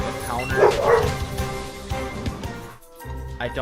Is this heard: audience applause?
no